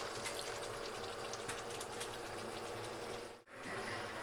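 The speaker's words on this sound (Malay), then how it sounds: "Okey, daging belum masak dah aku nak masukkan air." Water pours steadily into a pan of beef that is not yet cooked, during preparation of beef cannelloni: a continuous rushing, bubbling fill sound, close and fairly loud, briefly cutting out near the end before resuming.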